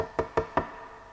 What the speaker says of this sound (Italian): Aldo sentì bussare alla sua porta